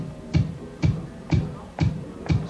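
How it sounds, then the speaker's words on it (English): A sequenced straight kick drum pattern programmed via MIDI, five evenly spaced thumps repeating in a steady four-on-the-floor pulse, up close over a faint background hiss, with no voices. "16 bars of bass drums there."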